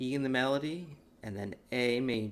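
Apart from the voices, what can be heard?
No everyday noises stand out.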